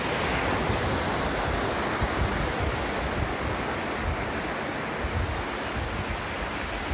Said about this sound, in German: Ein schönes Meer hier, ne?